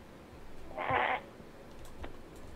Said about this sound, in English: I hear a piggy.